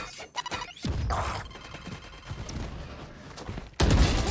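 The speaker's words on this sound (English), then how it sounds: "mummAy has to back off as the paint shells land right next to him" Paint Shells grenades go off in Valorant during a First Strike NA qualifier match, heard as a cluster of loud, close bursts and crackling blasts, with a heavy impact near the end.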